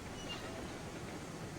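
A train rolls along in the RAILROADS Online video game, a dense steady rumble and rattle of wheels and cars heard from close by, with no pauses.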